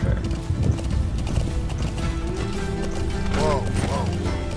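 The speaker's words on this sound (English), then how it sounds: "so the horse slows down after a time" Horse hooves clip-clop at a steady gallop in Metal Gear Solid V: The Phantom Pain, set in Afghanistan, with a short whinny near the end, all under game music and a player's voice.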